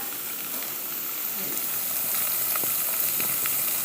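Onions frying in a pan for chicken biryani, a steady close sizzle and crackle with a few light pops throughout.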